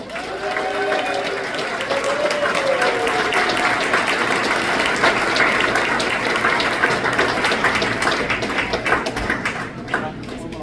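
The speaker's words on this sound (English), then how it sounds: "give a huge round of applause for James R. Hustle." Dense clapping from a sizable audience fills the whole stretch, loud and sustained, with a few whoops and voices blending into the applause.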